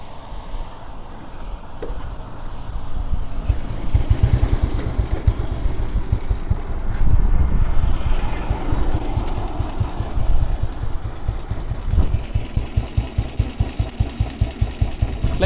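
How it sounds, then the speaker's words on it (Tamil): A 2006 Royal Enfield Bullet motorcycle engine idles and revs nearby, its steady low thumping pulse swelling and easing, with a faint metallic chatter running through the beat. "இன்ஜின்லேருந்து ஒரு மாதிரி ஒரு மாதிரி சில் சவுண்டு வருது"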